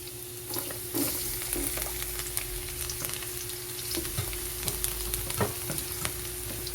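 Garlic sizzles and fries steadily in a hot pan for a chicken and mushroom stir fry, a continuous crackling hiss with occasional louder pops and stirring scrapes, close and alone without talk.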